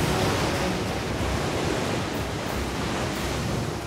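Qiantang River tidal bore surging upstream during the annual bore tide festival, a dense, steady roar of rushing water and surf that stays loud and unbroken throughout.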